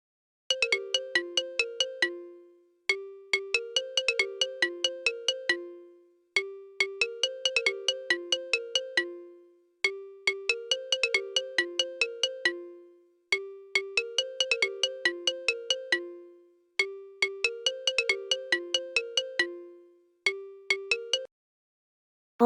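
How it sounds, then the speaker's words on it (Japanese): A smartphone-style ringtone melody, generated as MIDI notes from Excel VBA, plays as a repeating bright chiming phrase, about seven evenly spaced bursts of quick tones with short gaps between them, clear and alone. "某スマホの着信音かな"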